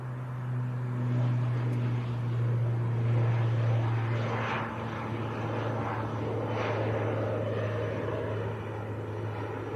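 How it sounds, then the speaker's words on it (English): A Jet2 airliner on approach to Leeds Bradford Airport, a steady low engine drone that swells slightly and holds at a distance, with no talk. "We do have another inbound about 5 miles out, which is another Jet 2."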